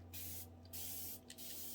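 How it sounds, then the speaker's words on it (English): Short hissing bursts from a spray bottle misting Distress inks over a Dollar Tree cross being altered in salvaged-art style, two or three quick spritzes close to the microphone with no talking. "Very important to use this, to use your spray bottle"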